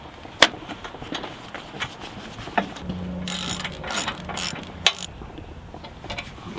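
A ratchet wrench tightening nuts on a winch plate of a 1953 Jeep CJ3A pickup, giving bursts of rapid close clicking with short pauses and a few metallic knocks, no talking.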